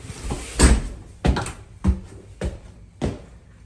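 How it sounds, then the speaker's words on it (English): Trailer back door opening or closing, heard as five or six evenly spaced thuds and rattles over a bit more than three seconds, close and fairly loud. "And this is the back door of the trailer."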